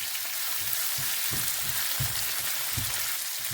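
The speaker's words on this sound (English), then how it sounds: "now I'm going to add my okra to this. I'm just going to stir it all in" Okra frying in a pan for desi-style bhindi, stirred in, gives a steady loud sizzle with soft scraping stir strokes underneath.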